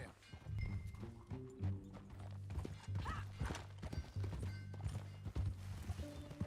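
Horse hooves in the video game Red Dead Redemption 2 clip-clop in a quick, steady rhythm as the horse moves along, with a low musical drone underneath and a brief snort or whinny.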